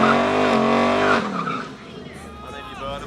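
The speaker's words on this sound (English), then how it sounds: "And then you burn them out." Toyota GR86 doing a line-lock burnout with the front brakes held at full pressure, a loud sustained engine roar and tire squeal that fades after about a second, followed by people talking over the idle.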